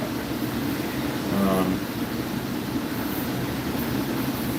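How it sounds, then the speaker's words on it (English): From inside a Hudson-Bergen Light Rail car, a steady rumble and whirring hum of the moving train continues throughout, with a brief voice partway through. "I think I'm the only one on this train."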